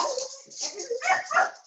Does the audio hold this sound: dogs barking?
yes